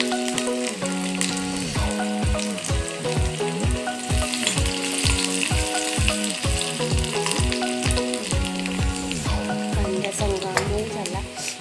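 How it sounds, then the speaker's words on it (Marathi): Onion, tomato and curry leaves frying in hot tempering oil in a kadhai: a continuous hissing sizzle under loud rhythmic background music, with no speech. "फोडणीसाठी पहिले कांदा घालून घेऊया। कांदा त्याच्यात टमाटर कढीपत्त्याची पानं"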